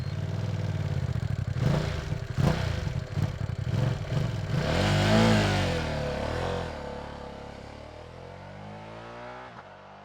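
A 2025 Ducati Panigale V2 accelerating hard, engine revving up through several quick gear changes with sweeping rising pitch, loud and close, then easing off and fading toward the end.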